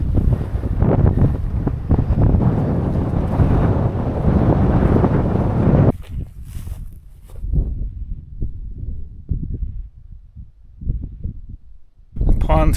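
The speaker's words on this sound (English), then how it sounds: "it's really windy" Strong wind on an open hillside in Henry W. Coe State Park buffets the microphone with loud, continuous roaring gusts. It cuts off abruptly, and a voice speaks over quieter rustling before the gusts return.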